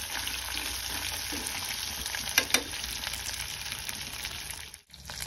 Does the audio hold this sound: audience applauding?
no